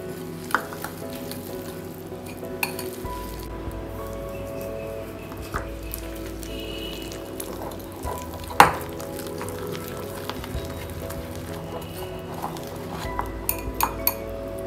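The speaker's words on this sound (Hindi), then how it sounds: "थोड़ा थोड़ा दूध डालकर हम बैटर बनाएंगे" Chocolate wafer batter being whisked in a bowl as milk is added bit by bit, a steady clink of utensil against the dish with scattered sharper taps, close and moderately quiet.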